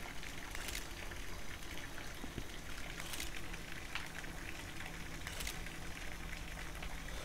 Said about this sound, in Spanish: antes de darle a nada ya estaba oyendo el grifo